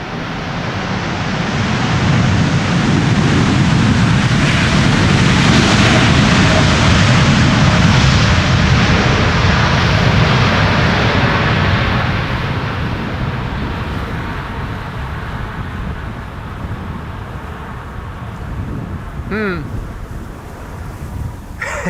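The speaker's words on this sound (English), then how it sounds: "And the airplanes crabbing" Airliners at Schiphol's Polderbaan runway 18R in gusty crosswind, a broad roaring jet rumble swelling and fading over about twelve seconds amid heavy wind buffeting on the microphone, followed by quieter gusts and brief clicks.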